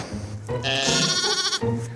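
A lamb bleats loudly and repeatedly in a close, quavering series of cries with short breaks between them, heard alone without any talk.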